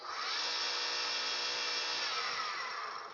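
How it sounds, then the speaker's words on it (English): Steady high-pitched whine of a rotating lathe as sandpaper works an ebony cigar pen blank in stages, continuous and close for the whole stretch, easing off slightly at the end. "I'm gonna sand these in stages too."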